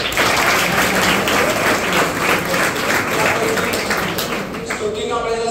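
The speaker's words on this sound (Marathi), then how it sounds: "या तिघींसाठी जोरदार टाळ्या" A hall audience at an academy felicitation for SSC results applauds three top-scoring students, loud, dense, continuous clapping close up that fades slightly toward the end, with some voices underneath.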